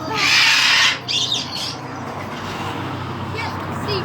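A cockatoo inside a store lets out a loud, harsh squawk up close, followed by softer squawks and shrill calls over background room noise.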